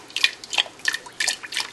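Cream poured into a pan for hot fudge sauce, a soft trickle with small splashy drips, close and fairly quiet, coming in uneven little bursts over about two seconds.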